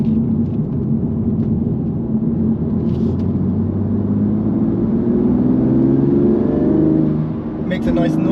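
A BMW M2 Competition engine pulls hard in a steady, rising drone on the road, loud and close inside the cabin, while a voice talks over it.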